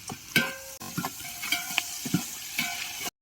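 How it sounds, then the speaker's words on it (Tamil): Onion, green chili, cinnamon and bay leaf sizzle in hot oil for biryani while a spoon stirs and scrapes the pan in several sharp strokes over a soft crackle, no voices. "எண்ணெய் நல்லா காஞ்சி வந்துருச்சு வெங்காயம் பச்சை மிளகா பட்டை இலை இதெல்லாம் சேர்த்துக்கலாம் நல்லா கிளறி ஊற்றலாம்"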